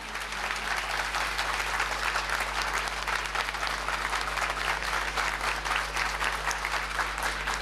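A devotional namasankirtanam audience breaks into sustained, dense applause, a steady roar of many clapping hands that holds evenly throughout without pause.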